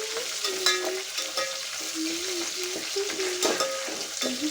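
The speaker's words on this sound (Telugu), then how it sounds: "కరివేపాకు అండ్ పచ్చిమిర్చి వేసి మంచిగా ఫ్రై చేసుకోవాలి." Curry leaves and green chillies fry with cashews in hot oil for Andhra-style vegetable pulao, a steady loud sizzle broken by frequent scraping stirs of a spoon in the pan.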